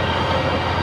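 Train rolling past on the railway near the Al Farah district of Settat, a loud continuous close rumble and rush of wheels on track.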